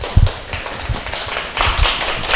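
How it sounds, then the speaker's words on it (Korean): Audience at a book club lecture breaks into brief applause: a short burst of clapping hands, close and fairly loud, with scattered sharp claps rather than a long ovation. "박수 할까요?"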